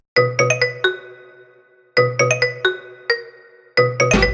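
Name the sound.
phone ringtone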